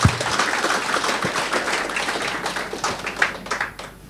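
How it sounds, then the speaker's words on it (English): A church congregation applauds during a sermon, a dense, steady patter of many hands clapping for about four seconds with no voices over it. "Clap for Jesus"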